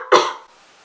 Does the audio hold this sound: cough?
yes